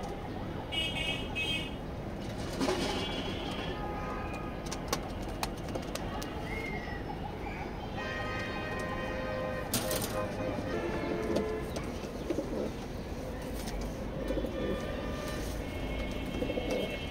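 White racer pigeons in a pigeon loft coo and burble steadily throughout, low and continuous, with someone talking over them and occasional light thumps and wing movements.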